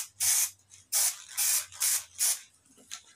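Aerosol adhesive spray can being used to glue car seat foam, five or six close, loud hissing bursts of roughly half a second each, with a fainter short spurt at the end.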